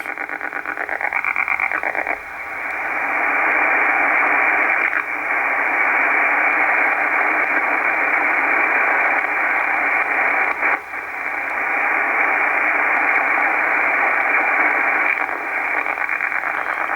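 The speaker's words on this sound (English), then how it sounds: "type of radar that transmits and checks the band conditions" A steady band of hissing shortwave radio static with a buzzing, rasping radar sweep running continuously, briefly dipping a few times, heard alone on an Icom IC-R8500 receiver between 14 and 15 MHz.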